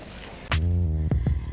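Tiny motor flipping the camera module of an ASUS Zenfone 6 phone gives a brief buzzing whir of about half a second, followed by two soft clicks, close and fairly quiet.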